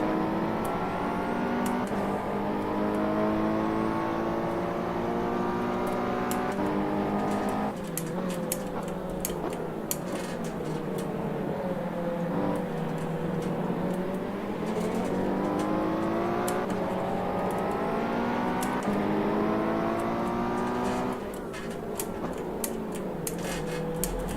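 Ferrari race cars in a Ferrari Challenge Series race roar continuously, engines revving up and down through gear changes, with several cars overlapping and passing, loud and sustained throughout without speech.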